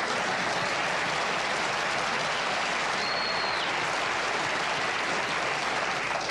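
Dense, sustained studio audience applause on a late-night talk show, loud and continuous from start to finish with no talking over it.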